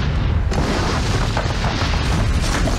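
A grenade blast in an action film scene from Mission: Impossible 2, a sustained, loud, broad roaring boom that fills the whole stretch with no speech over it.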